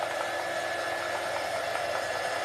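Hair dryer blowing on a craft piece, a steady close whooshing whir running evenly throughout with no talk.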